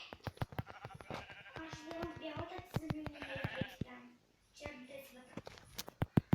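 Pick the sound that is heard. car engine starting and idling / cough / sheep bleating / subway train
sheep bleating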